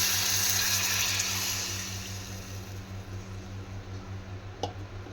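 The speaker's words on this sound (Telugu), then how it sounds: "చింతపండు రసం పోసుకోవాలి." Tamarind juice pours into a simmering fish curry, a close wet splashing rush that fades into softer bubbling, with one small sharp clink near the end.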